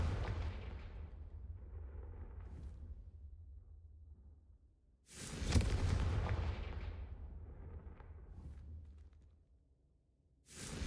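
A fire-blasting spell in the Hogwarts Legacy video game erupts in a loud, booming burst mid-way, with a second blast starting at the very end, over a steady low rumble.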